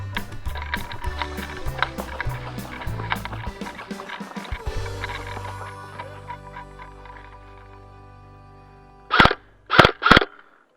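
Battery-powered airsoft gun firing during an outdoor airsoft capture-the-flag game with a weakening battery, heard as a rapid irregular string of sharp clicks and pops early on, then three loud close snaps near the end.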